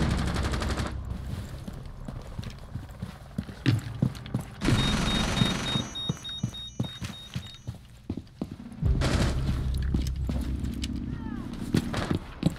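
Gunfire in Rainbow Six Siege comes in rapid bursts and scattered single shots, mixed with clanking mechanical sounds, while players talk over the action.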